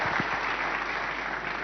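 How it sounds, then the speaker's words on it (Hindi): Applause from a studio audience greeting special guest Aamir Khan at a televised awards-style event, a steady even wash of clapping with a few low thumps at the start and no speech. "तालियां ज़रूर होनी चाहिए क्योंकि हमारे ख़ास मेहमान आमिर खान"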